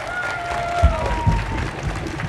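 Audience at a concert in Hanoi applauds a band, a steady wash of clapping and cheering with a few louder thumps and faint voices underneath.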